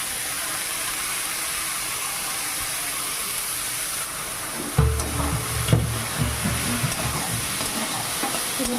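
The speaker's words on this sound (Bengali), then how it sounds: "এবার মোচাগুলো ঢেলে দেবো" Chopped banana flower poured into a pan of sizzling spice paste: a steady frying hiss, then a sudden louder burst of crackle as it lands, followed by stirring scrapes and uneven sizzling.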